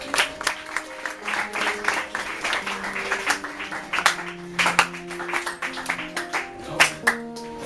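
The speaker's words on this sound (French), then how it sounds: "On applaudit s'il vous plaît." Audience at a school graduation ceremony claps steadily for a student called forward, the applause sitting under sustained musical or tonal sounds and occasional crowd noise, moderately loud throughout.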